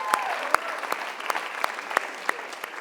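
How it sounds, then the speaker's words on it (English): A conference audience in Toronto applauds steadily, a dense even wash of many hands with a few sharper nearby claps standing out, lasting the whole stretch without fading. "Give a big round of applause, Abdul Rahman Malik."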